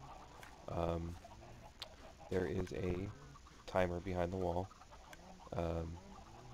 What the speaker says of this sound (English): There are a bunch of cedar chickens up above a hopper back there.